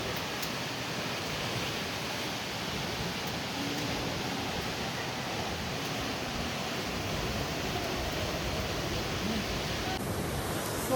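Mormarewadi waterfall near Kamshet, Pune, in the monsoon, a dense, unbroken roar of falling water that stays loud and constant for the whole stretch.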